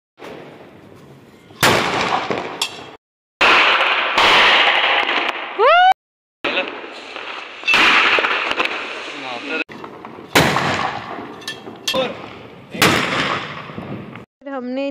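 Diwali firecrackers burst in a residential street in loud, crackling volleys separated by short silences, with whistling rising and falling shrieks between blasts and voices of people nearby.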